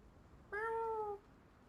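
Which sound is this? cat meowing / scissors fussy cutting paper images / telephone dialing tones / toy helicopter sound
cat meowing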